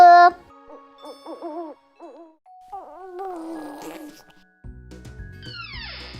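Cartoon owl hoots in a children's animated girls' game, a toy owl transformation with rising and falling tonal hoots, a chime-like shimmer and a bright ascending sparkle sweep at the end, no talking.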